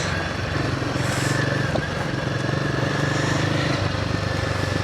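A Royal Enfield Himalayan 450 motorcycle engine runs steadily while the bike is ridden, a close, continuous loud drone with wind noise and no clear changes in pace.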